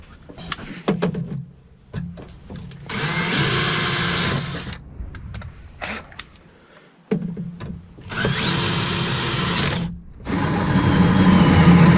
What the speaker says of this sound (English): And if we drill there, it'll be right on target.